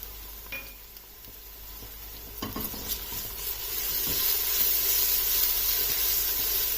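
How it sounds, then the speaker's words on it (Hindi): Garlic and ginger paste sizzles faintly and steadily in a pan, building gradually, with occasional soft scrapes and clinks of stirring. "अब लहसुन और अदरक के पेस्ट को भी इसमें सिर्फ 1 से 2 मिनट तक ही कुक करना है।"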